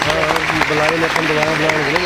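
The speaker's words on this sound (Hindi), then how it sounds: "एक बार पूरी मोदी की टीम जो यहाँ पे लोकल प्रेजेंट है उनके लिए भी हम ताली बजवाना चाहेंगे" Sustained applause from a crowd, a dense steady patter of clapping with a voice talking over it throughout.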